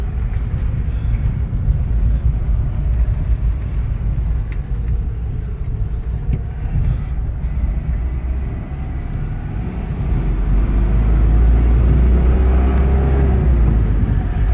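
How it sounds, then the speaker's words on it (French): A Citroën GSpecial with a flat engine pulls away gently from a standstill, giving a steady, humming drone that grows louder and deeper after about ten seconds; no one speaks. "ce bruit qui chante, qui ronfle, c'est vraiment très caractéristique de ces moteurs-là."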